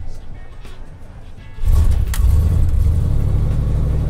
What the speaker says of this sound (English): Cool, so car starts.